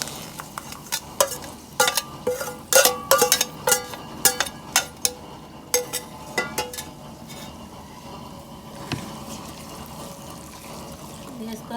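A spoon stirs fried tempering into cooked rice for katte pongali, clinking sharply against the pot in quick uneven bursts over the first half, then settling into softer, sparser scraping.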